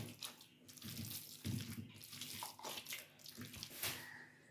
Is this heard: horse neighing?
no